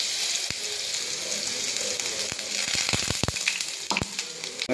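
Crushed onion, garlic and chili hit hot oil in a pan, giving a steady loud sizzle with a few sharp crackles and stirring clicks throughout, no talking.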